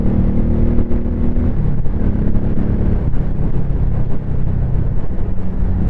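Honda Shadow Sabre 1100 motorcycle with Vance and Hines Long Shots exhaust, recorded while riding: a steady, loud, close engine drone with low harmonic rumble and wind buffeting, pitch shifting slightly as it pulls.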